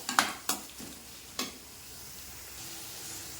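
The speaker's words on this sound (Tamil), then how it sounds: "இப்போ நல்லா சுருளை வதக்கிட்டு பார்ப்போம்" Onions and garlic being sautéed in a pan for tomato thokku, with a few sharp spatula scrapes and clanks against the pan, then a soft, steady sizzle.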